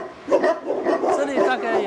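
Several Tibetan guard dogs bark in their kennel, a steady overlapping chorus of barks and yips that runs throughout, with a voice speaking over the top of it.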